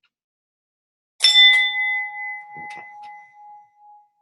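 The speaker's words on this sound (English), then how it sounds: "Now, that is a dinger bell." An old, solidly built dinger bell is struck once, giving a loud ring with long sustained tones that slowly fade, followed by a few faint softer clinks. A voice says a brief word as it dies away.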